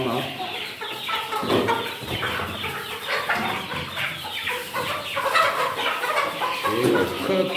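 A flock of hens, including Brahma chickens, clucks continuously and busily while a rooster chases them. The sound is near and steady, with scattered squawks and brief flutters.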